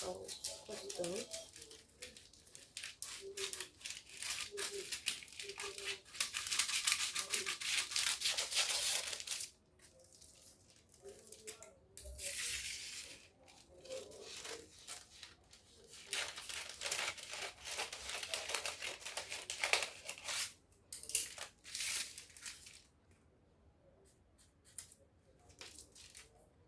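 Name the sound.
scissors cutting out fabric for a milkmaid dress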